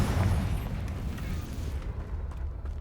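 Confringo explosive spell blast in the Hogwarts Legacy game, a loud booming rumble with heavy low end right at the start that slowly fades into a softer crackling tail.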